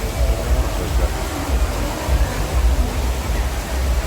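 A tiered, illuminated water fountain and waterfall in an activity plaza at Skywalk Bangkapi gives off a steady, close rushing hiss with a low, rolling rumble throughout.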